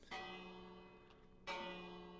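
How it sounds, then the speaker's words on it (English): A Minecraft village bell rings out as a raid begins, two bright metallic strikes about a second and a half apart, each ringing on with a long shimmering decay, fairly quiet and heard alone. "the bell is ringing, indicating a raid has started"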